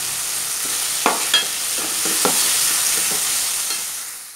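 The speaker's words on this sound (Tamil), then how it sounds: "புதினா கொஞ்சோண்டு சேர்த்துங்க கொத்தமல்லி தலை கொஞ்சோண்டு இப்போ நல்லா வதக்கிக்கலாம்" Tomato, mint, coriander and ginger-garlic paste sautéing in a pan for masala chicken: a steady, fairly loud sizzle with a few soft spatula scrapes and taps.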